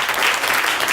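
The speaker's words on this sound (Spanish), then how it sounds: "¿Cuándo le pueden dar un aplauso al Señor?" Church congregation applauding during a worship service, a steady loud wash of many hands clapping throughout with no break.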